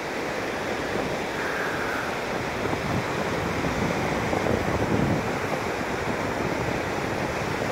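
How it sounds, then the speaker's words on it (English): Night surf rolls continuously onto a beach while wind buffets the microphone, a steady, loud wash of breaking waves and gusts with no voices. "Trying to tilt the camera so the wind doesn't hit the microphone directly."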